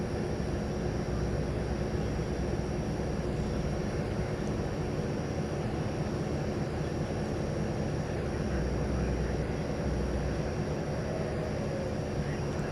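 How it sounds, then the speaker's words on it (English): Plane taking off at night from runway 18 left at DFW Airport, a steady broadband engine roar that stays loud and even throughout without any speech. "Flight 793 to Louisville, going out here on the west side on runway 18 left"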